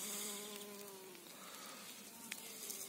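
Bees buzzing around early spring wildflowers outdoors in Villanueva del Ariscal, Seville, a faint steady insect hum with soft background noise throughout.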